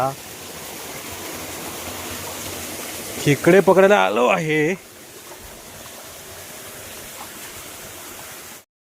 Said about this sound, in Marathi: ते बघा कसं पाणी कसं खळखळ वाहत आहे